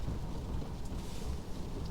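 Steady, dense rain noise in China fills the whole stretch, a constant broadband wash with a low rumble underneath and no voices.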